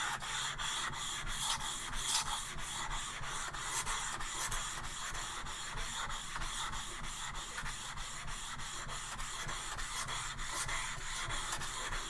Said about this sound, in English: The WD-40 on the sandpaper, to keep it from getting loaded up, so the debris that we're cutting off of here kind of floats away